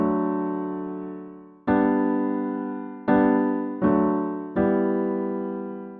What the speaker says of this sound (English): the beginning of the song without inversions would sound like this